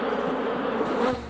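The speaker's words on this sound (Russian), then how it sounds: "Здесь пчел хоть и много, но им не до нас, ведь работа у них выше улья." Honey bees at a bee farm hum in a dense, close, continuous buzz around the hives, loud and steady before easing slightly at the end.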